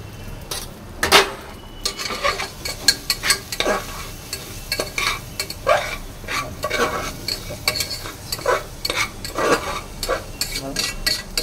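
A spoon scrapes and stirs turmeric-yellow rice in a pan over steady sizzling, with repeated clinks of utensil on metal at an uneven rhythm, close and moderately loud, no voices.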